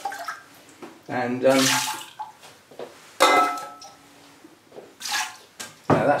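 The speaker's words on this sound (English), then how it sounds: "This just gets water thrown in" Water is poured over the roots of a Renanthera imschootiana orchid in several splashing bursts, with gentle pauses between them as someone speaks briefly.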